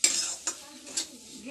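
Semolina roasting in melted ghee for halwa, stirred with a spoon so it scrapes and taps against the pan in a few short strokes over a soft, low sizzle.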